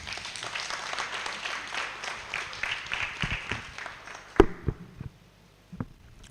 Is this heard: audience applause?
yes